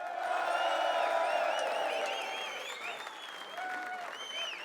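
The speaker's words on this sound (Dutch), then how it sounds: "zullen we ze nog één keer een groot applaus geven?" Sustained audience applause with some cheering for a children's choir at a year-end show in the Gouvernement in Maastricht, dense and loud at first, then easing slightly while whistles and excited voices rise over it.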